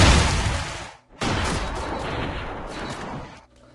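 A slowed-down gunshot in Call of Duty, a long, deep, smeared roaring blast that fills the whole clip, loud and close, with a brief dip partway through.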